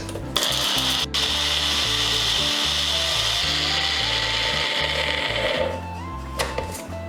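A mixer grinder whirring as it grinds black pepper and dried mint into jaljeera powder, a loud continuous motor drone with rattling, a brief break early on and a shift near the end.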